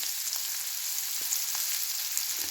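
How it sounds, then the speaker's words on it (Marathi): Onion frying in hot oil for a dried fish curry makes a steady, faint sizzling hiss that stays even and unbroken throughout. "तेल तापल्यानंतर ह्याच्यामध्ये आपण कांदा टाकूया"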